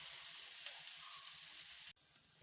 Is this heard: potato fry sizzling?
yes